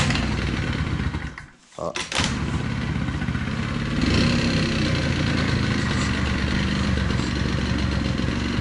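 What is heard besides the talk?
old motorbike engine starting and idling after 15 years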